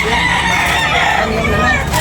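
A rooster crows at a busy chicken market in Tabunok, Talisay, Cebu, the call sitting amid steady crowd babble and nearby voices.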